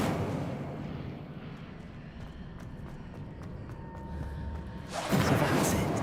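A fire spell cast in Hogwarts Legacy bursts out near the end as a loud, sudden whooshing blast, following a stretch of quieter game ambience with faint tonal chimes.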